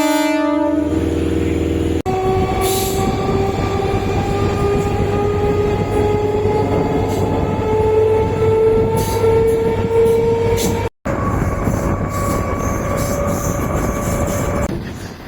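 A MEMU passenger train runs on a single line toward Trichy between Salem and Mayiladuthurai, a horn blast at the start giving way to a loud steady rumble with rising tonal whine and rattling wheels.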